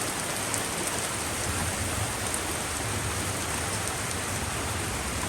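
Heavy rain falling steadily on a carport and lean-to, a dense, even wash of drops with no breaks, fairly loud and close, with no voices.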